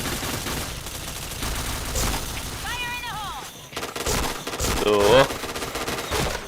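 Video game gunfire, bursts of shots and impacts crackling over a busy game soundtrack, with a person talking over it.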